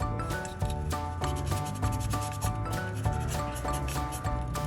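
Steady back-and-forth rubbing of sandpaper on a plastic Gunpla model seam line, close and continuous with a regular stroke rhythm.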